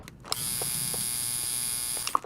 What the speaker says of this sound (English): Her tattoo machine is music to her ears.